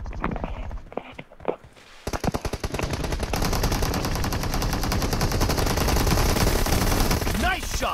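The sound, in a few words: gunfire in PUBG video game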